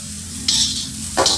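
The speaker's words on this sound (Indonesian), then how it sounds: "Tetap aduk. Biar dia rata" Tempeh fried rice sizzles loudly in a hot wok while being stirred, with two bursts of scraping and frying close up.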